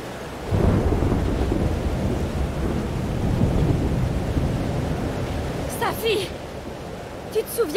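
Heavy rumbling thunder and a rain-like wash roll through a stormy scene in the game Life is Strange: Double Exposure, loud and sustained, ending with a few brief higher sounds.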